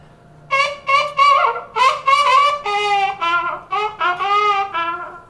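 Muted jazz trumpet played with a hand wah, giving a run of short, vocal-like wah-wah notes in quick rhythmic bursts, close and loud, with no talking over it.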